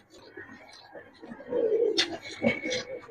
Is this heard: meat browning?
no